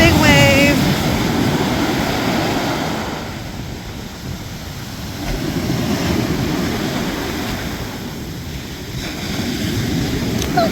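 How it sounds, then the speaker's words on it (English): Broad, roaring rush of cold ocean surf swelling and fading over several seconds, with wind buffeting the microphone and a brief voice at the start. "Here comes a big wave."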